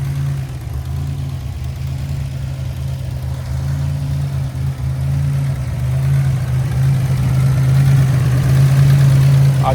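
A Buick Grand National engine idling close by, a steady low hum and rumble that grows slightly louder toward the end, with no voices.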